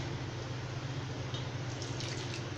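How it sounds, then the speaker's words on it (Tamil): Water pours continuously into a pot of cooked toor dal with turmeric and cumin for South Indian sambar. It makes a soft, steady rushing splash close by, with no talking. "தேவையான அளவு தண்ணி ஆட் பண்ணிக்கிறேன்."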